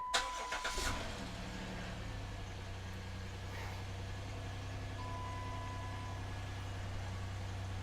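Dodge Caravan engine cranking and catching after a brief starter whir, then settling into a steady low idle that runs on alone.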